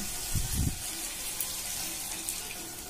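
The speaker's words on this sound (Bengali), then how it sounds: "এবার দিয়ে দেব জল।" Water pours into a pot of curry made with prawns, ridge gourd and potato, a steady close gush lasting a few seconds with no talking.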